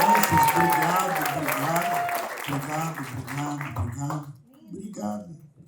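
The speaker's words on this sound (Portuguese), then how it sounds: "Aplauda Jesus mais uma vez para as crianças." A church congregation at a celebration service applauds for the children, with sustained clapping that fades over several seconds under a voice and tonal music.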